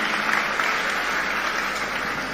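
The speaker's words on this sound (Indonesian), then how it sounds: "Tepuk tangan buat Ridho" Audience at a leadership retreat at an Islamic boarding school claps together in steady, fairly loud applause that carries on evenly, with no talking over it.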